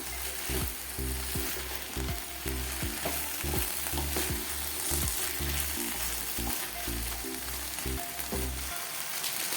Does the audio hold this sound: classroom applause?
no